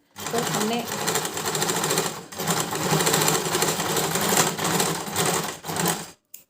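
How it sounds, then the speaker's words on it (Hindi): Sewing machine stitching back over fabric gathers for pleats, a loud, continuous close-up mechanical rattle running steadily for several seconds with one brief dip, then stopping abruptly. "तो अब हम इसमें वापस से सिलाई करते हैं।"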